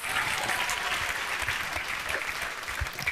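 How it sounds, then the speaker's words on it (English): Church congregation clapping their hands in praise, a dense, steady wash of applause filling the whole space without pause, loud and continuous from start to finish. "Clap your hands beautifully for Master Jesus."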